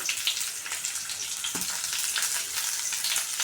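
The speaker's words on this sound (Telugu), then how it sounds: "కలుపుకున్నాక వేగనిద్దామండి" Carrot, green chilies and curry leaves fry in a pan with a steady, close crackling sizzle and no voice over it.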